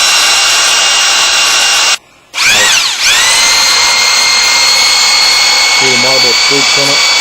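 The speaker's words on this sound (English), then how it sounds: "Brace the bucket between your feet and start slowly mixing." A power drill with a mixing paddle churns paste in a bucket, making a loud, steady whine that cuts out briefly, revs back up and keeps running, with a voice talking over it near the end.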